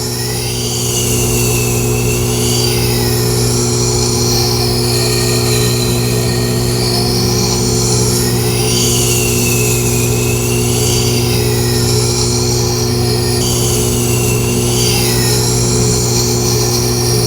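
A Tormek sharpener fitted with a CBN wheel grinds a CPM Cruwear super-steel blade. A loud, steady motor hum runs throughout, with a whine that rises and falls repeatedly as the blade is swept back and forth across the wheel.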